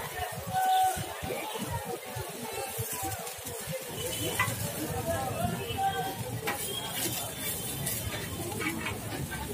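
Oil is poured into a hot pan, and after a few quieter seconds a loud, steady sizzle bursts in and keeps hissing close up through to the end.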